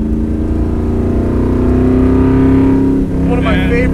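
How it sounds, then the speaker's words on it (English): A 1967 Ford Fairlane driving in second gear, its engine holding a loud, steady drone that rises slightly in pitch, then dips briefly near the end before resuming. "I haven't even left second gear yet."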